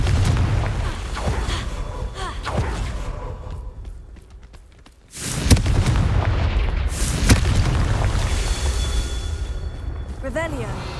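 Confringo blasting spells from Hogwarts Legacy erupt in heavy booming explosions, one after another, with a deep rumbling blast around the middle, under ongoing game noise and occasional crackling debris.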